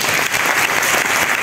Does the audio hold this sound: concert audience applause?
yes